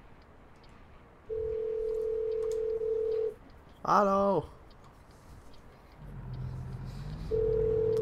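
A telephone dial tone in American Truck Simulator sounds as a steady, clear hum in two long stretches, with a short burst of speech between them and a low rumble beneath.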